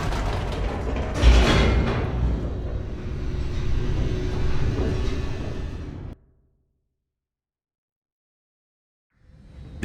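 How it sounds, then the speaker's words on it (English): An elevator in the video game The Stanley Parable racing downward, a grinding mechanical rumble with creaks and rattles that builds to a jolt. It runs for about six seconds, then cuts to silence before a faint sound returns. "The elevator raced downward, plummeting towards an unknown fate."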